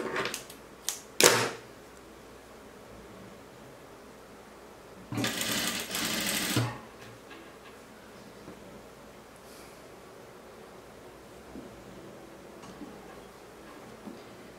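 A sewing machine hems a blouse in two runs: a quick clattering burst of stitching, then a longer steady whir of needle strokes after a quiet pause, with faint handling between.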